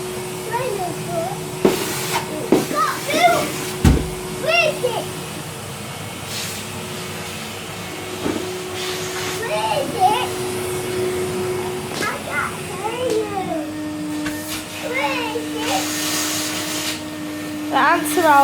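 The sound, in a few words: vacuum cleaner hoovering up ants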